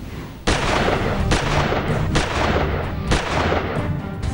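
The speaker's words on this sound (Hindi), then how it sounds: "सुबह फिर से दहशतगर्दों की गोलियां चलने लगी" Gunfire from a militant encounter in the Poonch sector of Kashmir, where militants fire from a house: loud, sharp shots crack every second or so, each followed by a rolling echo off the surrounding hills, with no voices.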